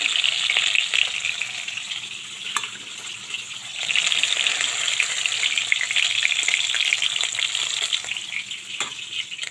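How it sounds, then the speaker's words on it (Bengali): Hilsa fish pieces fry lightly in hot oil in a pan, giving a steady close sizzle and crackle with occasional pops and no talking. "আর বাকি যে মাছগুলো আছে ওইভাবে আমি ভেজে নেব"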